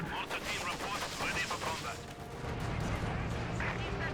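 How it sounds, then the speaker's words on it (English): Incendiary rounds fire during a Company of Heroes 2 battle between Soviet and Allied forces, a dense, continuous roar of rapid gunfire and blasts that keeps a steady loudness throughout. "Incendiary rounds."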